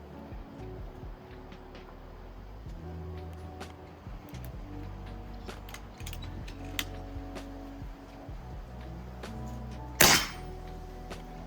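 A single suppressed shot from a Crosman Prospect air rifle fitted with a DonnyFL Tanto moderator, a short sharp crack standing clearly above a quiet outdoor background hum.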